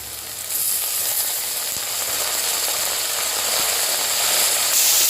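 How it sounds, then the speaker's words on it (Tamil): Coriander leaves sautéing with onions in a hot pan for prawn dum biryani, a loud continuous sizzle with faint scraping of stirring, building slightly toward the end. "கொத்தமல்லியும் நல்லா வதக்கிக்கோங்க"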